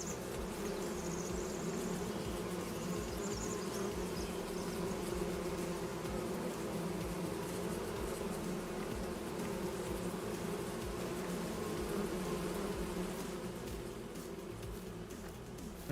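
A steady, continuous swarm of bees hums from beehives on a farm in the video game Farming Simulator 22, even and unbroken for about sixteen seconds with no talk.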